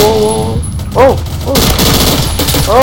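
Bursts of gunfire from a Roblox first-person shooter, firing in short automatic volleys with brief pauses, loud and close, against a busy game backdrop with no talk.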